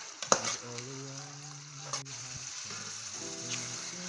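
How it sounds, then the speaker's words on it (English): Quiet sizzling of locust beans frying in a pan, with a few sharp clinks of a utensil stirring, under faint tonal background sound. "You stir it together as it's frying."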